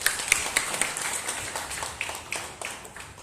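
A small audience at a village gathering in Suradadi claps for the village government official, fairly quiet and slightly distant, with individual claps audible in a loose, uneven patter.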